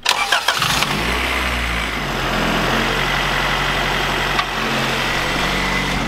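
A Honda Civic EG hatchback being readied for the track cranks and starts, then its engine runs steadily near the listener with the throttle held, a loud continuous drone.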